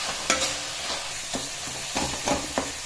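Tomatoes frying in a pan for garlic rasam, a soft steady sizzle broken by several sharp scraping and tapping stirs of a spoon, no talking.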